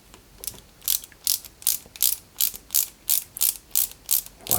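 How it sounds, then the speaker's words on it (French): A CP screw is driven into the exhaust pipe protection plate of a 1/8-scale Citroën C4 WRC 2008 model car, giving a steady run of about a dozen sharp ratcheting clicks from a hand screwdriver, close and clear with no talk. "à l'arrière, on y met une vis CP"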